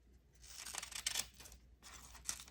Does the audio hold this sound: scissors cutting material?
yes